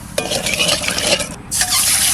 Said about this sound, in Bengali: তেলের মধ্যে আমি একটু লবণ দিচ্ছি হলুদ এবার ডিমটা আমি দিয়ে দেবো